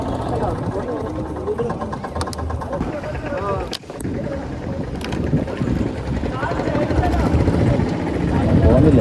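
A small boat's engine drones steadily on the water at Amboori, Trivandrum, on a windy day, a constant close rumble under ongoing conversation.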